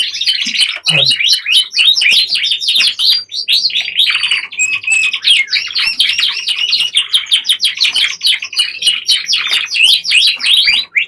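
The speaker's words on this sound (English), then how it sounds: "5 cockbirds, all in different parts of the room, all singing their hearts out" Five canary cockbirds in different parts of a room sing at once, a dense, continuous tangle of bright trills and chirps filling the room, loud and close.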